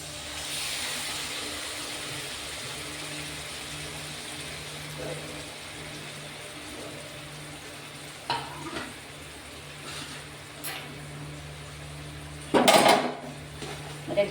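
Soft, steady frying hiss with occasional scraping and stirring clicks as chhana is stirred in hot ghee in a pan, ending in a louder clatter near the close.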